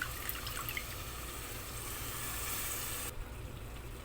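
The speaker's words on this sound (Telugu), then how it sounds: "ఇదిగోండి కొన్ని నీళ్ళు ఇలా పోసేసుకుంటే సరిపోతుంది" Water trickles and splashes into a pan of cooking broad bean curry, a soft steady pour that stops abruptly near the end and leaves a faint quiet background.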